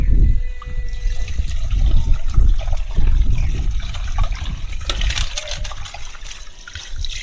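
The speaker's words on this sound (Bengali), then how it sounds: "ফার্স্টে চিকেনগুলোকে ভালো করে ধুয়ে নিচ্ছি।" Water runs steadily from a tap while raw chicken is washed, a continuous splashing gush with bubbling trickles, near and fairly loud with no talking.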